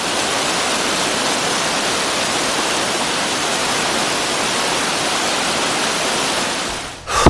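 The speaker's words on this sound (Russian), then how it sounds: "водопад крутой, большой, высокий" A large, high waterfall near Lake Baikal's Peak Chersky roars steadily and loudly, a dense unbroken rush of falling water that holds constant before cutting off abruptly at the end.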